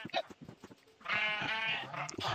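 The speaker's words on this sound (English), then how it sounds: "I hear the noise of the sheep all sped up." Sped-up sheep bleats in the game Minecraft, arriving as a rapid, high-pitched warbling run that grows loud and sustained after a sparse, choppy opening.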